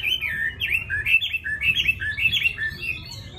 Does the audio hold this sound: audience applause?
no